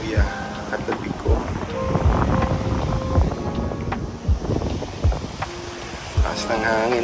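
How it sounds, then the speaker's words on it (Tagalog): Strong wind at a seaside camp in Fujairah on a drizzly morning, a steady buffeting roar against the microphone with gusty thumps, while people talk underneath. "Taas ng hangin, maambon pa."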